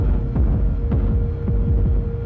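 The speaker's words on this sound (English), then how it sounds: "You hear it with the reverb, it's now a different kind of heartbeat." Repeated deep synthesized kick drum thumps with a reverberant tail, pulsing in an uneven heartbeat-like rhythm over a steady low hum.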